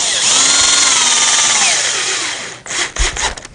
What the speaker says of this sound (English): I am using a longer shaft on my screw gun